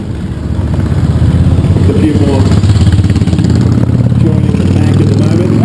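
Motorcycles on a charity ride in Cranbourne pass along the road, their engines droning loud and close with a steady low rumble and revving, while someone speaks over the noise.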